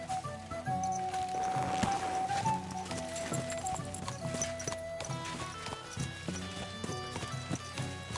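Horse hooves clip-clop in a steady rhythm in the video game Kingdom Come: Deliverance 2, close by, with a faint whinny and some background music.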